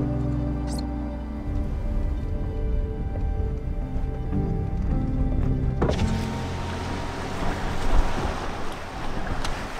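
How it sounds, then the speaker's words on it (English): Steady wind rushes against the microphone with a low rumble, growing harsher and noisier partway through, with no voices, in windy, rainy weather on the Isle of Harris, Scotland. "It's pretty windy and pretty rainy"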